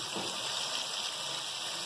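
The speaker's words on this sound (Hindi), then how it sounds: "और 1 कप पानी डालूंगी, आधा कप पानी डालूंगी।" Water poured from a cup into spices in a cooking pan for kaleji masala, a steady close hiss and gush of liquid running without pause.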